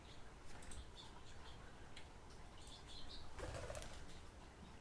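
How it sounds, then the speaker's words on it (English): Backyard feeders crowded with doves, goldfinches and house finches: faint, distant wing flutters and soft ticking chirps over a low outdoor hiss, with no speech. "there's probably at least 30 or 40 birds at the feeders right now, just going bananas."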